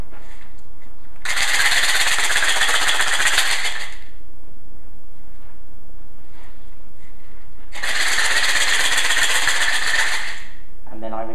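A hand rattle shaken during a candle magick ritual produces two loud, bright, continuous bursts of rapid shaking, each about two and a half seconds long, separated by a quiet stretch, close up with no speech.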